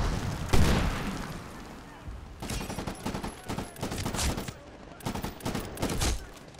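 Medal of Honor: Warfighter combat with a frag grenade blast followed by bursts of rapid gunfire, loud and close, repeated volleys in an uneven rhythm.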